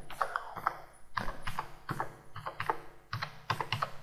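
Computer keyboard typing in quick, uneven bursts of close key clicks, entering a search for subtitles; no voices.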